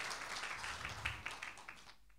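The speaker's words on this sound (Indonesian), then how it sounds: "Berikan tepuk tangan buat Tuhan kita Bapak Ibu Saudara." A church congregation claps during an online worship service. The applause is fairly soft and slightly distant, a brief patter of scattered claps that quickly dies away.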